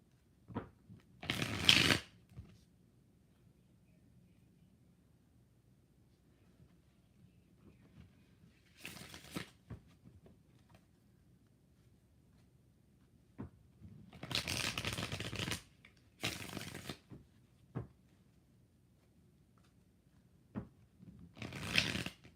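Tarot cards are shuffled by hand in several separate crisp riffling bursts, each a second or two long, with quiet pauses between them.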